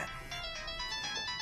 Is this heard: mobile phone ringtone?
yes